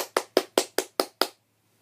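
Six sharp hand claps in an even, quick rhythm, close and fairly crisp, followed by silence, given in response to the end credits of a Minecraft session after defeating the Ender Dragon.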